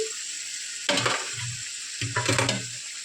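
Tomatoes drop into a pan of frying spices and potatoes, setting off two loud bursts of sizzling with stirring between them over a steady background hiss.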